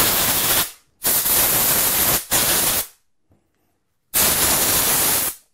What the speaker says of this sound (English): Then we're going to grab some compressed air. Okay, and then blow the parts off.